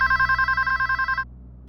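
A telephone at a police station rings loudly and close in a rapid trilling burst of repeated pulses, then cuts off abruptly, leaving quiet.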